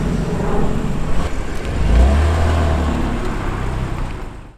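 A BMW car pulling away to be parked, its engine loud and near as it accelerates with a rising rev in the middle, then fading off toward the end, no voices.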